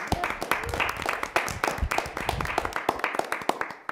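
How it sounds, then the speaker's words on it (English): A small audience at a city parks and recreation commission meeting claps, with distinct individual claps audible in a sparse, uneven patter that begins to thin toward the end. "Everybody else got a round of applause"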